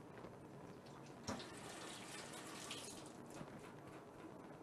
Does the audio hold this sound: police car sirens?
no